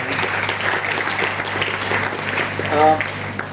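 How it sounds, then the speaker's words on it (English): An audience at a Guru Gobind Singh Foundation event in Nashik gives a round of applause, a continuous wash of clapping over a low hum, with a speaking voice briefly rising near the end. "big round of applause for him"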